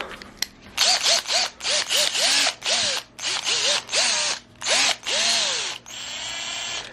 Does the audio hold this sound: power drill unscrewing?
yes